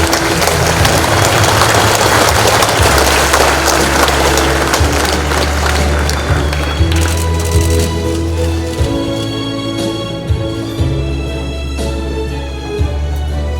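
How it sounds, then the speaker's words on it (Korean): An audience claps at Korea's 71st Constitution Day ceremony in 2019: dense, loud applause for about seven seconds that thins out as low sustained music tones take over. "여러분 큰 박수 부탁드립니다."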